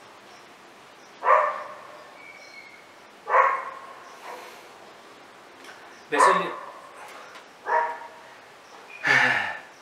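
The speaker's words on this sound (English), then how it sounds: "my neighbor's dog." A neighbor's dog barks in five separate sharp bursts spaced a couple of seconds apart, fairly close, with someone speaking briefly between them.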